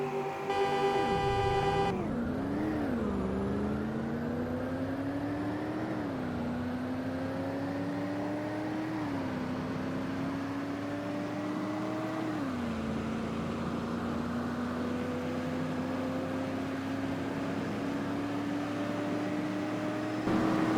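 Cars racing in the Roblox game Greenville, one in the Pacer trim, with a steady synthetic engine tone rising through gear shifts, each climb broken by a brief pitch drop, continuous and close.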